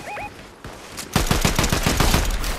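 Rapid gunfire bursts crackle in a shooter video game, a quiet moment with a brief tone giving way to a loud, dense string of close shots that carries to the end.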